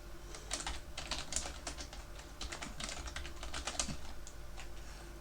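Keys clatter on a computer keyboard as a password is entered in a terminal, a quiet run of quick, uneven clicks in small bursts over several seconds.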